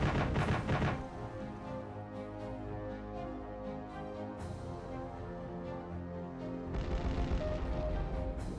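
Enemy anti-aircraft weapons fire in the Command: Modern Air Naval Operations war game, a dense, continuous rumbling barrage with sharper bursts at the start and near the end, loud throughout with no talk.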